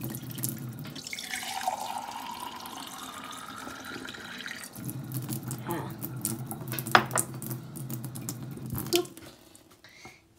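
Water running from a tap into a cup, a steady stream with a rising fill tone, plus clinks of metal and dishes and brief talk near the end.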